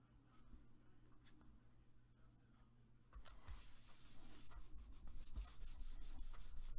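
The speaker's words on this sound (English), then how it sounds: "I like to always burnish it real well" Glued paper for a junk journal page is burnished by hand, a soft, steady rubbing that starts faint and grows louder and scratchier partway through, close and alone with no voices.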